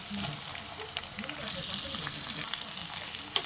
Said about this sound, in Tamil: அடுத்து கோவக்காவை போட்டு நல்லா கிளறி விடுவோம்